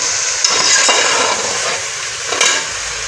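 Cauliflower and potatoes are frying in a pan with a steady, loud sizzle, while a spoon stirs and scrapes against the pan twice, sharply, at moments.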